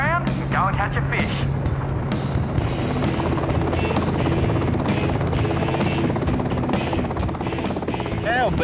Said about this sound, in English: There is nothing like a helicopter.